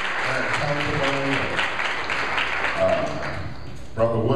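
Church congregation applauding, a sustained wash of many hands clapping at moderate distance, with a voice speaking over it throughout.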